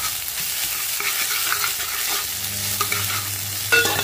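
Ginger garlic paste sizzles and fries in a hot pan while a spoon stirs and scrapes through it, steady close frying with a few sharper clatters near the end.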